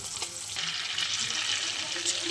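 Fish fries in hot oil for a spicy curry, a dense, continuous close sizzle and crackle with a brief stir or clatter near the start.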